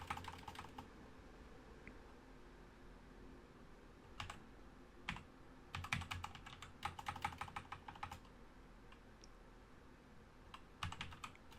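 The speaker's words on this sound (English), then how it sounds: "Did I type Majeski yet? I did, probably. I typed Smith" Keys clatter on a computer keyboard as answers are typed into a Sporcle NASCAR quiz, in quiet bursts of quick clicks separated by pauses, with no speech.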